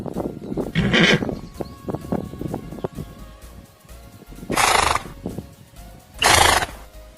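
A horse neighs loudly several times, with three strong whinnies spread across the stretch, between snorts, shuffling and faint clip-clop hoofbeats up close.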